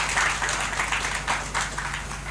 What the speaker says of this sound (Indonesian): Tepuk tangan dulu untuk Namira